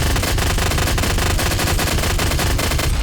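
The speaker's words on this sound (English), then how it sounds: "Well, not with the chain gun." A chain gun in the video game Doom 3D fires a relentless, loud burst of rapid shots in a fast even rhythm from start to finish, with no pauses.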